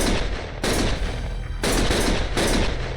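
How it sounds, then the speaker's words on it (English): Automatic gunfire in the video game Lost Judgment, three loud sustained bursts with brief pauses between them, close and dominant, with no talk over it. "Stop shooting!"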